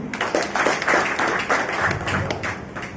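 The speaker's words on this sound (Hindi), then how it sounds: "तो इनके एक जोरदार ताली" Applause from an audience at a business leaders' gathering, a loud burst of clapping that swells and fades unevenly, with a few thumps and faint voices beneath.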